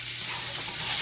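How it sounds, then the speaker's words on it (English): Meat coated in seasoning sears in a hot pan for Texas chili, giving a steady, close sizzle with a constant frying hiss and no talk. "searing the meat with the seasoning on it"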